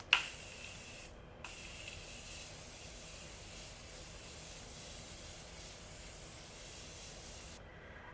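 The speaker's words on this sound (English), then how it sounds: "I am going in with the Morphe Continuous Setting Spray" Morphe Continuous Setting Spray mists out in a long, steady hiss lasting several seconds, close and fairly soft, with brief pauses between pumps.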